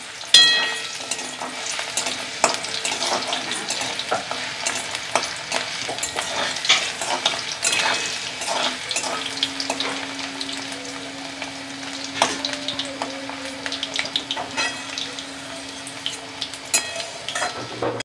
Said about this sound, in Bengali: হালকা লাল লাল করে ভাজা প্রায় হয়ে গেছে